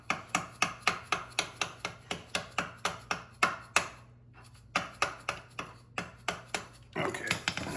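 Metal punch struck repeatedly with a hammer to drive out a foot peg pin on a 2022 Yamaha YZ250X dirt bike, a steady run of sharp, close metallic blows with a brief pause midway, then a final quick flurry.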